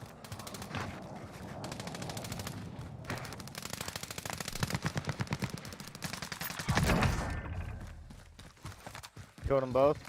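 Rapid gunfire rattles through a multiplayer shooter match, dense repeated bursts close by, with players talking over the shots.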